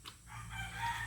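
Backyard chickens with colds, out in a light drizzle, cluck while a rooster gives a short crow, faint and somewhat distant over low background noise.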